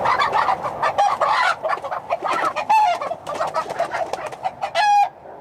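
Chickens clucking and squawking in a busy, uneven stream, with a few drawn-out crowing calls near the end, close and lively.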